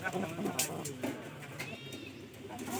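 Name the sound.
pigeon cooing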